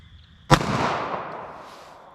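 A single sharp gunshot from a Smith & Wesson M&P .380 ACP pistol fired outdoors at a 40-yard target, one loud crack followed by a long fading echo.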